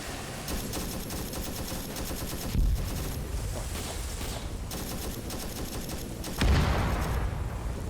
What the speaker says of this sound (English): Guys, there's mortars.